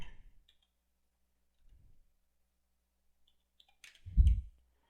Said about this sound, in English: So you click inside here, and then you just type what you want.